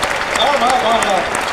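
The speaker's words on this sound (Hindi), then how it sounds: "एक बार ताली हाथ उठा के बजा लो यार" Audience at a Janmashtami poetry recital by a poet claps with raised hands, a steady, dense wash of applause lasting the whole moment while a voice carries on over it.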